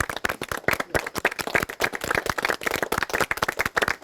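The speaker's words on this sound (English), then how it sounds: "may I applaud to you." Clapping from an audience at an award presentation for a restaurant honor, with dense, irregular handclaps close to the listener and steady throughout, no talking.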